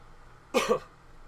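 A single short, muffled cough with a double burst, close by against a quiet background.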